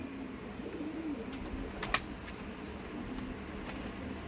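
Rampuri pigeons coo softly in a low, rolling murmur, near but fairly faint, with a brief rustle or clink partway through and no talking.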